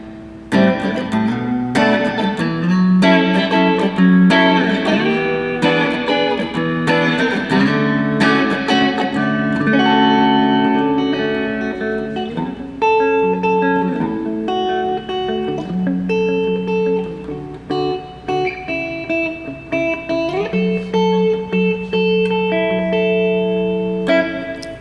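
A Squier Affinity Jazzmaster electric guitar on both pickups, run through a UA Golden Reverberator reverb pedal, plays strummed chords and picked notes with a lush reverb tail, loud and alone without talk.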